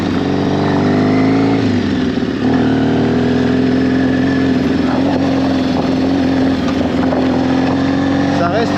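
A motorcycle engine drones loudly and close while riding, its pitch dropping once after a gear change and then holding a steady note under the throttle.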